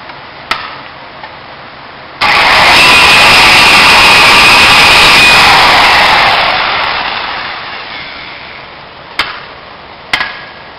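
A power saw cuts a corner off a wood-based EcoTop countertop, sounding as one loud, steady roaring cut of about seven seconds that fades near its end, with sharp knocks before and after.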